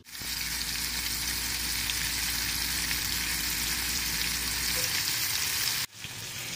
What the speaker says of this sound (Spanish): Mientras que seguimos friendo nuestros chicharroncitos de pollo